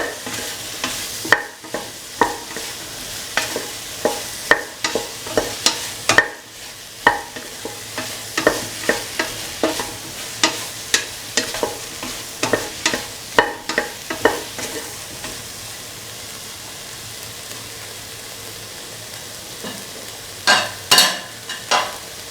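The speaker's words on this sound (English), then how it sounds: "Thoroughly mix the salt." Cauliflower rice being stirred with salt in a pan, a spoon scraping and tapping in a steady, irregular rhythm of close, distinct strokes over a faint background sizzle, with a few sharper knocks near the end.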